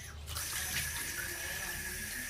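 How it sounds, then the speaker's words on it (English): Tap water runs steadily and fairly loudly into a bucket being filled for flushing a toilet in an apartment in Baguio, Philippines, a continuous splashing gush with no talk over it. "The water runs."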